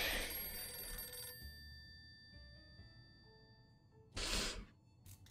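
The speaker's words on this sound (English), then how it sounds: "Oh, I might just ignore the phone." An in-game telephone rings in 60 Seconds! Reatomized, an electronic bell trill sounding in two bursts separated by a pause, with a soft tonal game score underneath and no talking.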